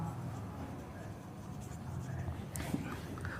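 Pen or chalk writing out an English sentence during a Hindi-taught lesson, faint scratchy strokes beneath a quiet room with a teacher's voice, a brief sharper scrape near the end.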